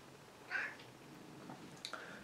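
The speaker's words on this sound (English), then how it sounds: "My cat's here meowing, of course." A house cat meows once, short and fairly close, followed by faint softer sounds in an otherwise quiet room.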